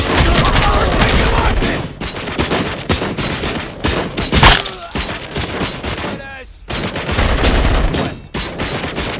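Rapid, loud gunfire in the RoboCop Rogue City video game, with repeated bursts of shots and impacts crackling close by and brief gaps between volleys, while a voice talks over the shooting.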